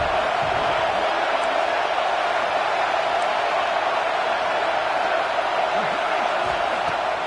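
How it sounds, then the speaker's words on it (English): Loud, continuous stadium crowd roar in a football video game, a dense unbroken wash of massed voices at a steady level, with faint talk mixed in underneath. "The roar of the crowd trying to fuel this defense to keep them pinned in their own end."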